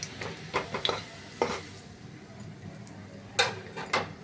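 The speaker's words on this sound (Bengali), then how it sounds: "একটু নেড়ে নিই।" A bay leaf and two or three cardamom pods get stirred in hot oil in a pan, with several distinct scraping and clinking utensil strokes against the metal over a quiet background, spaced irregularly.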